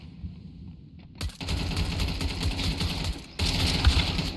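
Rapid gunfire from a Counter-Strike-style match, dense bursts of automatic shots rattling loud and close, starting after a quieter moment and continuing in two clusters split by a brief gap.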